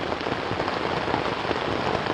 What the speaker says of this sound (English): about the time we started getting ready to come to bed, the rain hit.